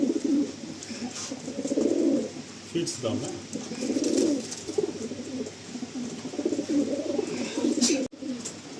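A pair of Andhra pigeons for sale coo in repeated low, throaty bursts at close range, with someone talking over them.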